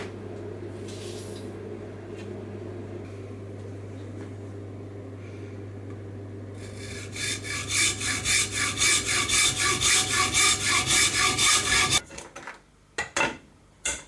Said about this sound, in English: get the tubing cut into 3-foot lengths